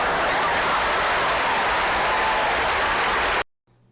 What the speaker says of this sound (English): What a weird applause line.